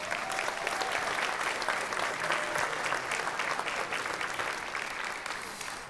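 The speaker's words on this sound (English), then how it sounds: "We should applaud that." Graduation audience at a high school of health and science applauds steadily, a dense sustained wash of clapping that tapers slightly toward the end.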